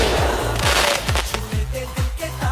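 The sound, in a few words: firecrackers being set off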